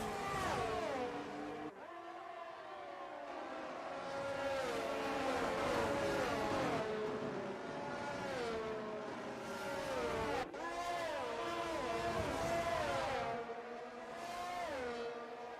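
Formula 1 race cars from the PlayStation game F1 22 scream around the Japan circuit in a league race, with high engine notes rising and dropping through gear changes. The steady, loud roar is punctuated by two sharp shifts, and no one speaks.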